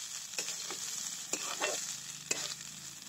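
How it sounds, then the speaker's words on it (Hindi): Egg and rice fry in a pan for egg biryani, a steady high sizzle broken by a few sharp scraping clicks as a spatula stirs the mixture, close and with no talk. "अंडा और चावल अच्छी तरह से फ्राई करेंगे उसको"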